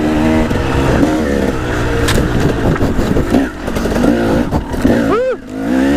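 Motorcycle engine with a sticking, oversensitive throttle revving and surging loudly and close, with a dented exhaust pipe, sustained throughout and ending in a sharp rising-falling rev near the end.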